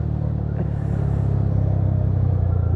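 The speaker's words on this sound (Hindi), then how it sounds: "इस गाड़ी का जो साउंड है ना यार," A modified Yamaha R15 V3 motorcycle idles with a deep, heavy single-cylinder rumble, a loud throbbing pulse close by that swells slightly partway through, with no talk.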